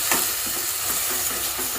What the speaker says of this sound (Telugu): హై ఫ్లేమ్లో పెట్టుకోండి. ఉల్లిపాయ వేగాలి కదా, టైం పడుతుంది అన్నమాట.